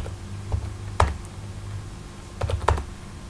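Keys on a computer keyboard are pressed in a Linux terminal to enter a gzip command: a few sharp clicks, then a short pause, then a quick cluster of taps over a low background hum.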